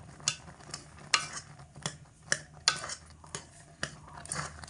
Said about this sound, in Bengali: এই কড়ার মধ্যে ফেলে আমি চামচ দিয়ে এরকম করে ঘেঁটে দিচ্ছি।